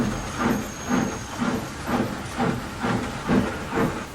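Thomas the steam locomotive puffs away with rhythmic chuffing bursts of hissing steam, about two per second, steady and close, with a thin high whistle-like tone early on.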